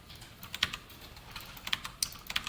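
Light typing on a computer keyboard while a Java variable is written, a quiet scatter of soft key clicks in irregular clusters with no talk.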